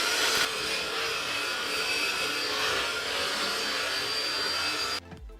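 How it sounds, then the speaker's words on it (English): A hand mixer blends cookies in a bowl into fine crumbs. Its motor whirs with a loud, steady buzz close by for about five seconds, then cuts off. "I'm using a hand mixer."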